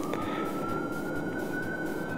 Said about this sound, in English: Here, those sirens are coming to get you